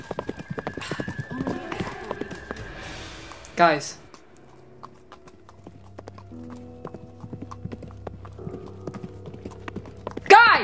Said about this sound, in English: I think some pony might be following us.